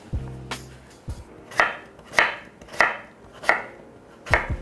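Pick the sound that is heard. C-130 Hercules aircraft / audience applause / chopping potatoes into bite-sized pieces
chopping potatoes into bite-sized pieces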